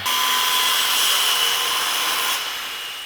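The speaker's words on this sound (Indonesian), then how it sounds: "Potonglah papan dengan ukuran panjang 52 cm sejumlah 3 buah menggunakan gergaji lingkar portable" A portable circular saw whines in a loud, bright, steady tone while cutting wooden boards, then eases to a lower drone as the cut finishes.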